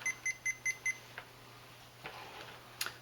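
A multimeter set to continuity emits a quick run of five short, evenly spaced beeps while testing the starter coil of a 2003–2008 Toyota Corolla starter, followed by faint clicks and handling noise.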